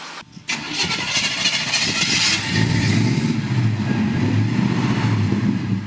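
A 1956 Chevy Stepside pickup engine cranks and catches after a brief pause, then settles into a loud, rumbling idle close by, with a deep throaty low end.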